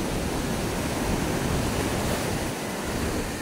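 Ocean waves wash and break steadily near a boat at sea, a loud continuous broadband roar of surf mixed with wind noise, with no voices.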